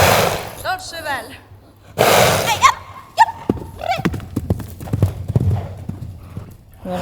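Hooves of a part-Thoroughbred horse clop irregularly on a hard floor, close by, with the horse whinnying and snorting among the scrapes and thuds.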